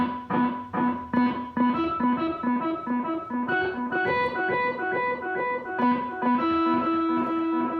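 Electric guitar intro played through a pedalboard with the reverb off: dry picked notes and chords in a steady rhythmic pattern, slightly driven and up close, no voices.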